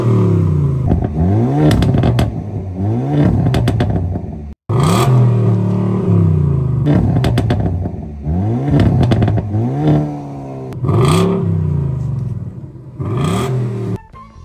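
Engine noise from a tuned Hyundai Elantra N four-cylinder racing a 2018 Ford Mustang GT V8: loud revving that climbs through repeated gear shifts, with a brief cut partway through. No voices.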